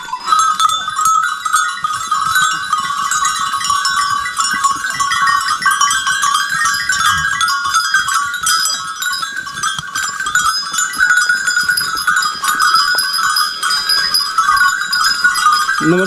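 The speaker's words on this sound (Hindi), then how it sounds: "तो ये देखिए भाई जंगल की बकरियां भी आ गई हैं घर इस समय।" A herd of goats coming home from the forest, with steady bleating and ringing bells heard close by and continuing throughout.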